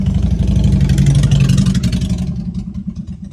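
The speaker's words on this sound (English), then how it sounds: "Got a lot of motorcycles out and about today." Motorcycle engines rumble and rev outdoors as the bikes pass, a loud throaty low-pitched roar with pulsing revs that fades away after a few seconds.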